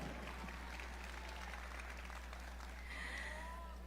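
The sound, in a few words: audience applause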